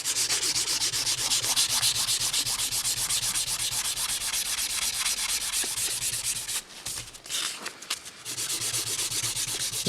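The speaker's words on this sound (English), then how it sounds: "This is 500 grit sandpaper, and I'm just going in trying to just get the wood basically to where there's no edge" 500 grit sandpaper rubs back and forth over a knife's wooden handle in fast, even, close strokes, a continuous rasp that breaks off briefly near the end before resuming.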